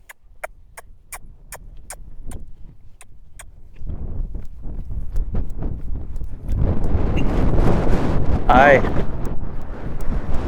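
Horses' hooves striking arena ground while young colts travel at different gaits, an irregular rhythm of thuds that grows louder and busier, with wind buffeting the microphone and a brief whistle-like tone near the end.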